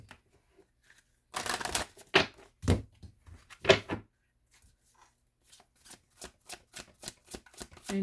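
Tarot-style cards shuffled by hand in a quiet room: a long riffling burst, then several slaps and flicks, followed by a rhythmic series of crisp individual card snaps as cards are pulled.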